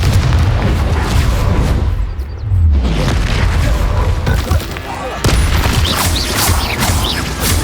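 Confringo fire spell blasts in Hogwarts Legacy during a goblin battle, loud dense explosive booms and crashes overlapping continuously in chaotic combat.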